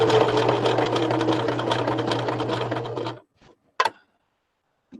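A sewing machine runs steadily for about three seconds, stitching lace onto a fabric clutch with a fast, even mechanical chatter, then stops, leaving a few soft clicks and handling noises.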